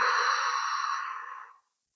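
One long, slow exhale pushed out through pursed lips as if through a straw during a chest-mobility breathing exercise, a close, airy hiss that thins and fades before stopping.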